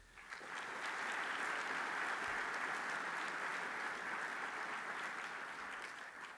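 Sustained audience applause at a university gift announcement honoring the Huntsman family at Utah State University, a dense steady wash of clapping that swells in and holds evenly for several seconds before easing slightly.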